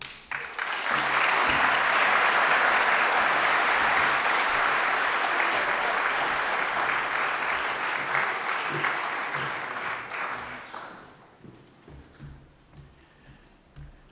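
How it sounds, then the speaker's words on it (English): Sustained applause from a large audience at a forest conservation event, loud and steady for about ten seconds before tapering off into a few scattered claps. "One more time, everybody. Round of applause."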